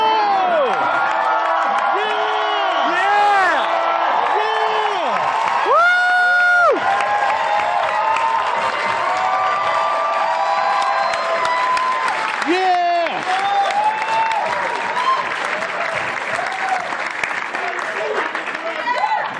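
A screening crowd roars with cheers, whoops and steady applause for Dr. Emmett Brown, loud and sustained throughout, with tonal music and a voice woven through the din.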